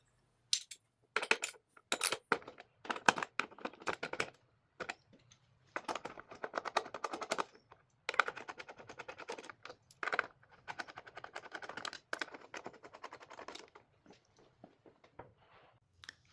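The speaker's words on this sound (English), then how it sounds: "Next, we have to remove the 4 bolts here, holding this front cowl on," Bolts being taken out of the front cowl of a Kove 800X motorcycle with a T30 driver, giving irregular close clicks and scrapes of the bit on metal in short bursts, with brief pauses between them.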